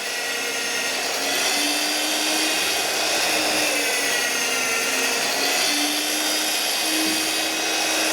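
A magnetic drill press bores with a 3/8-inch bit, producing a loud, steady high-pitched motor whine and cutting drone that holds continuously without pause and with no talking.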